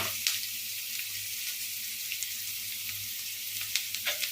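Onions sizzling in a pan for a spinach and egg scramble, a steady, close frying hiss with a few faint clicks and stirring taps, no voices.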